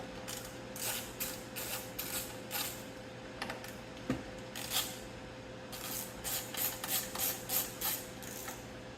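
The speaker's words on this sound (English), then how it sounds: "I'm going to use a 8mm socket for this." An 8mm socket ratchet is worked while fastening a radio assembly back into a 2003-07 Honda Accord dashboard, producing quiet, close bursts of rapid clicking that come in irregular groups with short pauses between them.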